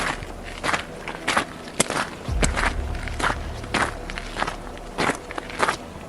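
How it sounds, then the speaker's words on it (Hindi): Footsteps crunch along at a steady walking pace, fairly close and distinct, with a low thud partway through and no one talking. "उसे बाहर से किसी की आने की आवाज सुनाई"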